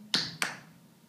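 Two quick, close hand claps or snaps, the second following the first a beat later, bright and fairly soft over a low steady background hum, with no voices.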